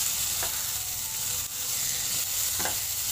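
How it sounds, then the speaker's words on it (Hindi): Cauliflower sabzi with black and green chillies frying in a pan, a loud, steady close sizzle with a couple of brief stirring scrapes, no talking. "अब देखिए ये अच्छी तरीके से भुन रही है"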